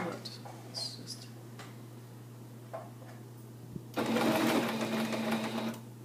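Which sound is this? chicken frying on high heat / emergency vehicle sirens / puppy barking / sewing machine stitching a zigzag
sewing machine stitching a zigzag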